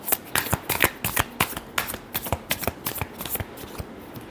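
Tarot cards being shuffled by hand, a rapid series of crisp riffling and slapping bursts in a steady, close rhythm throughout.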